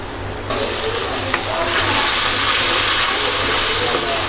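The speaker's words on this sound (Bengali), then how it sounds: "এটার যখন শব্দ হয়, কষানোর শব্দ, তখন আর আমার আওয়াজ শোনা যায় না" Spice masala being sautéed in a pan, a loud continuous sizzle that swells after a brief quieter start and stays dense and hissing throughout.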